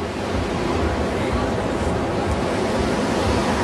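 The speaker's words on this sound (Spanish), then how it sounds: "Este es el mar Mediterráneo en Tel Aviv, Israel." Mediterranean Sea waves wash onto the beach at Tel Aviv, Israel, in a continuous loud roar of surf with a windy, hissing texture and no clear breaks.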